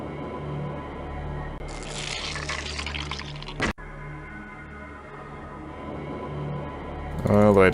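Water rushes and splashes steadily in The Journeyman Project 2: Buried in Time, a continuous liquid wash under sustained tonal background music, briefly cutting out midway before resuming and swelling near the end.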